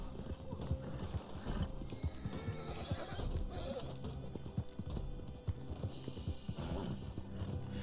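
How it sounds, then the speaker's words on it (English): A horse in the video game Red Dead Online clip-clops steadily at a run and neighs, with continuous game sound and a person talking over it. "What is my horse doing? Get on the horse."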